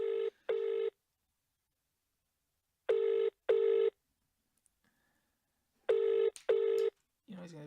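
Old-style telephone ringing in a home, three pairs of double rings separated by silence, loud and close, with a voice briefly heard at the end.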